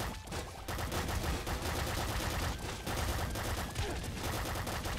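Dense, rapid gunfire from the video game Nuclear Throne, played with the Ultra Mod and bouncing shots, as a loud continuous barrage of shots and impacts with brief dips between volleys and no voices.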